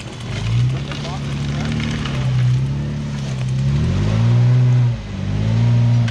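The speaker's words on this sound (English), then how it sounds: "Seeing that trail to go, he just drives" An off-road Toyota Tacoma, FJ or Nissan truck climbs a slushy snowy back-country trail, its engine droning and rising steadily as it revs up the slope, loud and close, with voices calling out over it.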